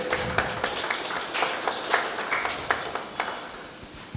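Audience applause at a Tamil astrology gathering honoring a guest speaker: a steady crowd clapping texture with scattered sharp individual claps, moderately close, continuing throughout with no speech.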